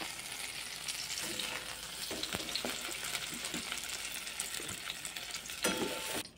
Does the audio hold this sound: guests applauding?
no